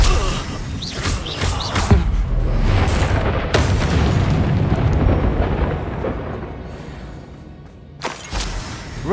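A Confringo blasting spell exploding in Hogwarts Legacy, a loud, dense rumble of booms and thuds with sharp impacts, continuing through most of the stretch before a brief lull and another hit.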